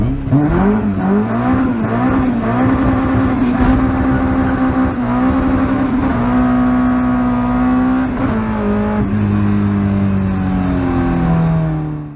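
A Honda CRX fitted with a K24 engine revs hard and continuously, its loud, close engine note climbing and falling through repeated throttle blips with no talk over it.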